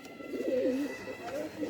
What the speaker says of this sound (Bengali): এই যে কবুতরটা আজকে আপনাদের দেখাচ্ছে